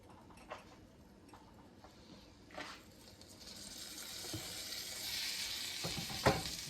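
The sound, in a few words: bread sizzling in a hot skillet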